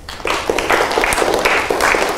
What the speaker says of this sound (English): I'm going to have you all start clapping